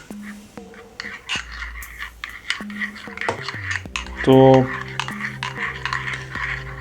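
A spoon clinks and scrapes against a hot ceramic cup while stirring espresso with thick crema from a Saeco Poemia / Gaggia Viva machine, close and fairly loud with a bright metallic ring near the middle, briefly under someone speaking Russian.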